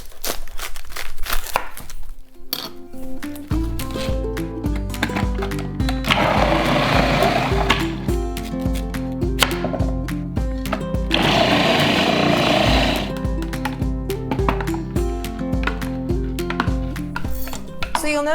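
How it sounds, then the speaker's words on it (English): A food processor grating quartered cabbage, with loud whirring bursts and clattering as pieces feed through the blade, interspersed with knocking and handling noises. "in order to grate it into my food processor, I usually end up cutting it usually in about quarters"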